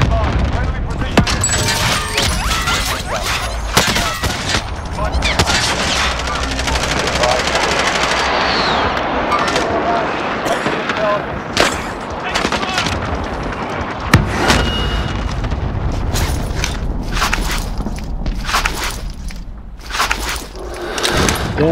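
Video game battle with a cluster strike: dense bursts of machine-gun fire and booming explosions rolling on continuously for over twenty seconds, loud and close, with radio-style voices talking over it.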